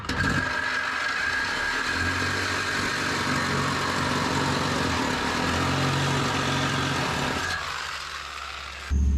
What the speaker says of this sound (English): let's go ahead and try the sawzall out and see how it goes getting to this transition